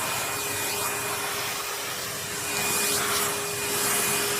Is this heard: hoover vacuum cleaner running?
yes